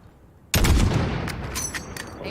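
A sudden loud artillery-style blast from a long-range gun in the sci-fi video game The Outer Worlds, a heavy boom followed by a rumbling decay and scattered crackling reports, with no talk over it.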